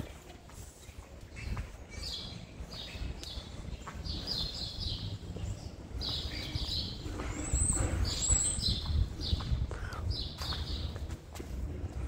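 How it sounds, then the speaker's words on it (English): Small birds chirp in repeated short bursts outdoors at a Lowe's garden center in Carbondale, Illinois, moderately distant over a rumbling background of traffic and footsteps. "You can hear the birds."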